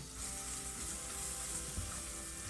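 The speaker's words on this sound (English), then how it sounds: "red pepper flakes as well and get those a little bit toasted" Red pepper flakes toasting in a pan, a faint, even hiss of hot oil sizzling steadily throughout with barely any stirring.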